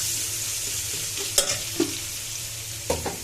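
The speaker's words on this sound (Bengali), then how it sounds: "কালো জিরে ফোড়ন আর একটু পেঁয়াজ" Onion frying with black cumin seeds in hot oil, a dense continuous sizzle close by, with a few spatula knocks and scrapes against the pan and no voices.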